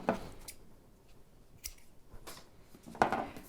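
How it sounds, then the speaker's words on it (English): Scissors cut a length of macrame cord, about ten inches long, for a wooden-bead napkin ring: a few crisp snips with pauses between them, close and quiet in an otherwise still room. "I'm going to cut about 10 inches of macrame cord"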